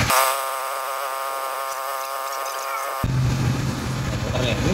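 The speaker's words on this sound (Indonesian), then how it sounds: "kipas ada bunyi kipasnya kan? Dengungannya tuh." A motorcycle radiator fan hums with a steady tonal buzz, loud and close, for about three seconds before it cuts out, leaving broadband engine and background noise behind.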